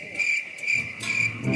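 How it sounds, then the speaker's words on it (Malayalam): Cricket chirping steadily in a high, continuous trill with faint pulsing, fairly close and alone in an otherwise quiet setting. "ചീവീട്."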